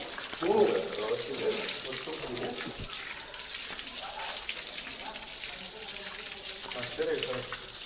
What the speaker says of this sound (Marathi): गरम पाण्याचा झरा वाहतोय.